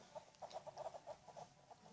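Chicken clucking in a Stickman Party video game, a quick run of about a dozen short, bright clucks in a steady rhythm, fairly close and clear with no talking.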